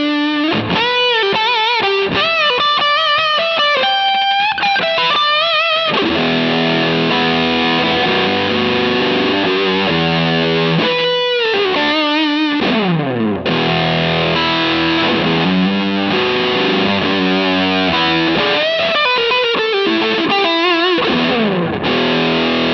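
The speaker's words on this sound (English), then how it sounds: "the final one is the Big Fuzz, which is the Big Muff" Thick, saturated Big Muff-style fuzz from a Harley Benton DNAfx GiT Pro multi-effects unit, an electric guitar playing sustained chords and bends with a dense, loud, continuous tone and no talking.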